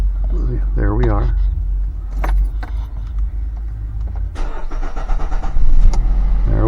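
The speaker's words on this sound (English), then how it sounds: "Let's start it up." A 2017 car engine cranking and catching, the starter whirring briefly before the motor fires and settles into a rising idle, loud and near, with people talking over the start.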